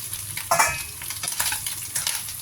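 Garlic and vegetables stir-fried in a pan for a Chinese dish, with a steady close sizzle and a few sharper scraping bursts as the food is tossed, no talking.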